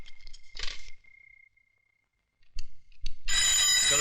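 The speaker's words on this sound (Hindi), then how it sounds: "पिताजी जरा फोन उठाइए।" A telephone rings in short electronic bursts, then falls silent before a louder, continuous ring takes over near the end. The ringing sounds close and carries no voices over it.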